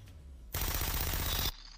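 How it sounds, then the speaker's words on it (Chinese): A burst of rapid gunfire from the TV series Breaking Bad erupts suddenly, loud and dense for about a second, then cuts off abruptly into quiet background. "听到电话那头传来的枪声"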